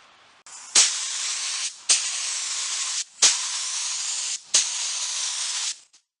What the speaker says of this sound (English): the next step is to spray on some color and see how we do